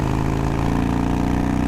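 A Harley motorcycle engine runs loud and steady with a deep, continuous throb as it accelerates, the note holding strong for the whole moment with no talk over it.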